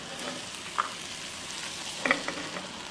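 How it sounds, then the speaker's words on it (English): Tomato added to ratatouille frying in a pan, an even sizzle with a couple of brief crackling pops, close and steady, with no voices. "So now we are adding the tomato, Martha."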